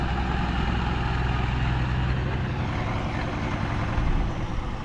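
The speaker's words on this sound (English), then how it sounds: "He's got ear defenders on because his tractor is so noisy." A noisy tractor engine runs steadily at close range outdoors, a loud continuous low rumble with a brief surge in level near the end, no talk heard.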